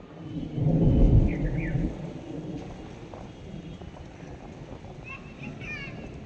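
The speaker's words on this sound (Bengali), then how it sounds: "শুনতে পাচ্ছেন আওয়াজটা? এখন থেকেই মেঘ ডাকছে" A low thunder rumble swells during an approaching storm, loudest early and then fading into a quieter windy ambience, with faint voices in the background.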